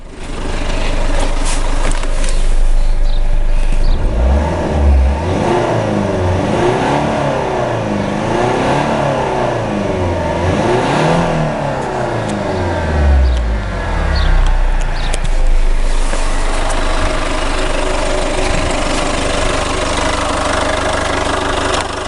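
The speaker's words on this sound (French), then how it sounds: "Allez, on va donner des coups de gaz de nouveau." Citroën C2 HDi diesel engine revved in repeated throttle blips while running during a homemade hydrogen decarbonizing treatment, loud and close, with rising and falling engine tones over a steady idle.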